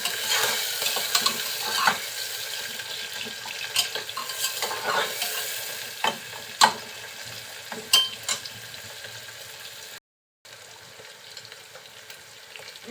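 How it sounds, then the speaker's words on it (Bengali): Small shrimp stir-fried in a pan with onion, a constant close sizzle of hot oil punctuated by sharp clacks and scrapes of a spatula stirring, with one brief dropout near the end. "আর দিয়ে দিচ্ছি ছোট চিংড়ি মাছ। দিয়ে একটু নাড়াচাড়া করব।"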